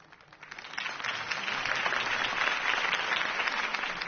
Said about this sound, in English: could have heard that applause